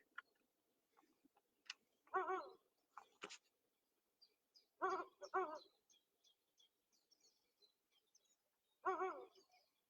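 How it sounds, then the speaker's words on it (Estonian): Faint Ural owl calls come as short, harmonic barking notes, repeated several times with long quiet gaps and a few soft clicks between them. "Kuulame, mis häält händkakk teeb."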